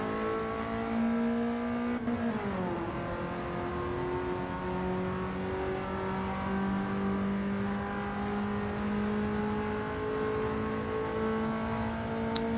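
A race car engine in the video game Gran Turismo 7 drones loudly and continuously as it accelerates, with a quick gear change early on, then a steady rising whine and no voices.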